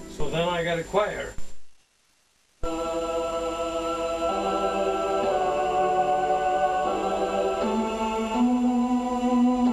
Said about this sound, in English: So then I got a choir.